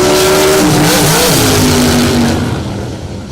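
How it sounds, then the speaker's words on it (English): A dragster roars off the line in the left lane at a drag racing event, its engine loud and sustained with the pitch sweeping as it accelerates down the track, fading slightly toward the end. "Apparently there with that left lane dragster."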